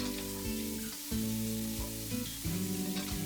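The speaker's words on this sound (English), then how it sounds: "Then fry this for about 5 minutes until it turns nice and light brown." Halved mushrooms frying in a pan for Indian-style mushroom rice: a soft steady sizzle laid under a sustained tonal hum, broken by a few brief clicks and pauses.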